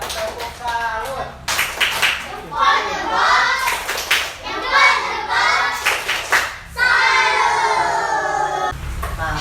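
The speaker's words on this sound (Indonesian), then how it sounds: "tepuk salut untuk semuanya. Tepuk salut." Children in an Indonesian primary school classroom perform a rhythmic clapping cheer, bursts of hand claps mixed with young voices chanting and talking, fairly loud and close throughout.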